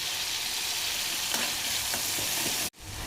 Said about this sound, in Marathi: त्यामध्ये कढीपत्ता टाकून घेऊया.